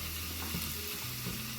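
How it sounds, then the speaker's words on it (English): Ground turkey fries in a pan while being mixed, a steady close sizzle with a low hum and a few soft stirring scrapes, no voices over it. "put the turkey into this and just mix it"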